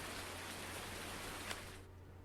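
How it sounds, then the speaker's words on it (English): Rain in the video game Farming Simulator 19 makes a steady, soft hiss of falling water that fades a little toward the end. "Are you serious, rain?"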